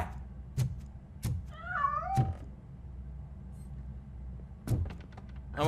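A cat meows in the RoboCop Rogue City video game, a wavering cry in the middle of the clip, with sharp thuds and knocks before and after it.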